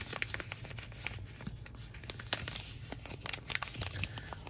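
A paper mail-day card being folded, with close crisp crinkles and scattered tearing snaps over a faint low hum, quiet and with no talking.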